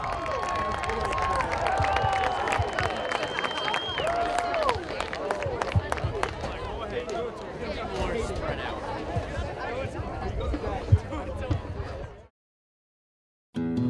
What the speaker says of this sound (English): how about one last round of applause for our senior student athletes